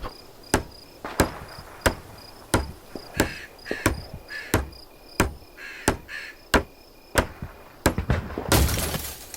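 A hammer strikes repeatedly while barbed wire defenses are built in the video game Hell Let Loose: Vietnam, sharp evenly spaced metallic knocks about every 0.7 seconds over a faint insect-like ambience, ending in a louder noisy burst.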